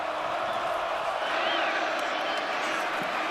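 Large stadium crowd of tens of thousands at Arrowhead during a Colorado vs Kansas college football game, a steady roaring wall of noise with scattered whoops, far-off and continuous throughout.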